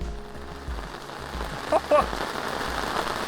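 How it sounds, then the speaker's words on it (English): Steady rain pours down outdoors at a carp fishing lake after three dry weeks, a dense continuous hiss of drops on surfaces with someone talking over it. "we haven't had any rain for the last 3 weeks. And it's coming down good now."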